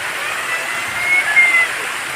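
Water runs steadily from many faucets at a roadside bathing area used by truckers in Irosin, Sorsogon, a continuous close hiss and splash with no clear talk.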